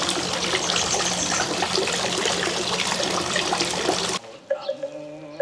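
Steady rushing water fills most of the clip, loud and broadband, then cuts off abruptly near the end, leaving quieter scattered sounds.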